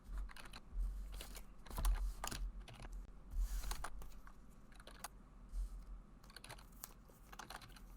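Keys on a computer keyboard are struck in quick, irregular bursts of sharp clicks and thumps, close and fairly quiet, during an online card game session, with pauses between flurries and no talk.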